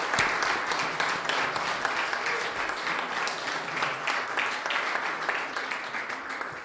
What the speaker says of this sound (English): How about let's give everybody a nice, robust round of applause for this evening.